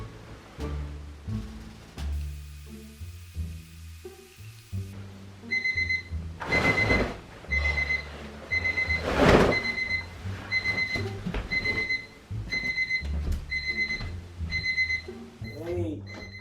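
Several alarm clocks go off together, layering rapid repeating beeps that run steadily for many seconds after a quieter start, loud and close, with household noises mixed in.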